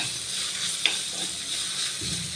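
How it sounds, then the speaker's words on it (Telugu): Chopped banana flower fries in hot oil in a pan for an old-style Telugu dish, a steady soft sizzle with a brief sharp clink of a utensil and light stirring scrapes. "ఈ అరటి పువ్వు ఒక ఐదు నిమిషాలు దీంట్లో వేగాలి"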